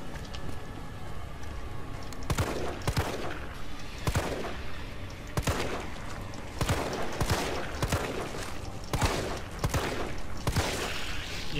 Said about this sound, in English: Yeah, the shotgun definitely works a lot quicker.